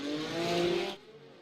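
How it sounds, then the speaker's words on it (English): IndyCar race cars in the iRacing sim at Laguna Seca rev hard at the start, a loud sustained engine drone that cuts off sharply partway through, leaving a faint hum. "Revs come up, and we are green at Laguna Seca."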